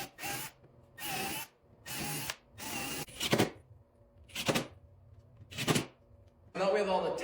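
A power driver sets screws into the tops of a frameless cabinet with dividers, sounding as a series of short whirring bursts with pauses between, close and fairly loud.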